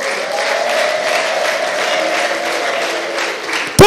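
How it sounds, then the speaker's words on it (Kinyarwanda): Congregation clapping during a church worship service, a loud, sustained burst of applause from many hands that carries on evenly from start to finish. "tugukomeye amashyi Mana"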